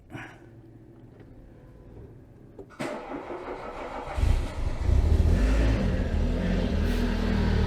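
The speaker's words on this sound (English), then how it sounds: "all I do is start the engine, move it back up to medium height again, check for leaks" A Citroen BX GTi 16V engine cranks and catches a few seconds in, then settles into a steady, fairly loud running idle that swells slightly as it warms, heard alone without talk.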